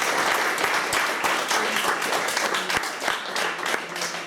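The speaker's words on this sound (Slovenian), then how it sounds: "Prosim en aplavz za vas." An audience at a sports legends evening honoring hall of fame athletes gives steady, dense applause, loud and sustained throughout with crisp individual claps over a broad roar.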